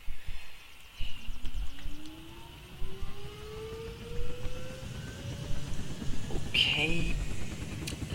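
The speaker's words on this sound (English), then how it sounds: "Yes, it's a helicopter." A helicopter in the video game Unturned spooling up, a whirring engine tone rising steadily in pitch over several seconds amid rumble and brief noisy bursts, with a voice speaking occasionally over it.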